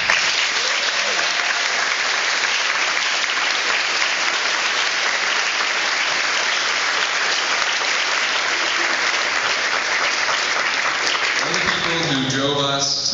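An audience at a 2009 Meaford GBSS graduation ceremony applauds the students' parents with loud, sustained clapping that holds steady throughout, and a voice emerges faintly as the clapping fades at the very end.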